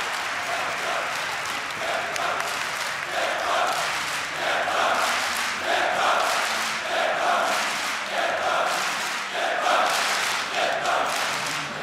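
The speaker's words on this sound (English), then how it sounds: "The home crowd is going nuts right now." Home crowd cheers and applauds at the DreamHack Winter 2014 CS:GO Championship grand final. The roar is loud and continuous, with rhythmic surges like chanting or clapping across the whole stretch.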